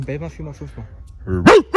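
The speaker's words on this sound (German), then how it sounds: "Das war ein echter Hund." A real dog barks in a forest at night, several sharp yelping barks close by, mixed with people talking over and between them.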